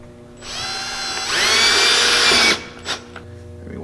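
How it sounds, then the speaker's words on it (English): A power drill bores holes into the air intake panel of a Can-Am Maverick X3, whining up in pitch as the motor spins up, running steadily close by, then cutting off with a few short clicks afterward. "we'll probably drill some holes in here so that we can start the drill bit"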